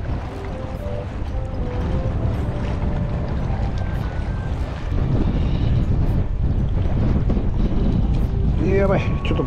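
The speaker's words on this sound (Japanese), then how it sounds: "やっぱ午後から風強くなるっていう予報当たったね" Strong wind buffets the microphone on a small fishing boat out on the water while jigging for horse mackerel, a steady loud roar throughout that grows heavier midway, with faint talk underneath.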